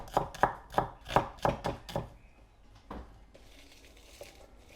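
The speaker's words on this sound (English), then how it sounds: "I'm just going to roughly chop this up." A medium onion is roughly chopped with a knife on a board, about eight quick, sharp chops in a brisk rhythm, followed by a couple of softer taps and quiet rustling.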